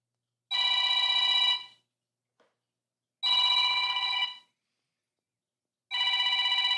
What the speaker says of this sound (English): That's my other phone.